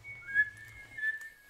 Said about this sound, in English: Love the whistling.